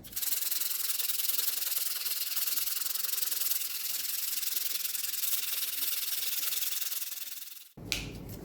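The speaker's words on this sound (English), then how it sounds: "everything can get sanded nice, soft, and level. And when I'm done sanding" Close, continuous rasping of sandpaper rubbed back and forth on a chef knife handle, steady for several seconds before stopping abruptly, followed by a short shuffle.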